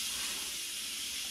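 A cooking pot is opened in a home kitchen while preparing a celebration dinner, releasing a steady, soft hiss of steam that stays even and unbroken for a moment.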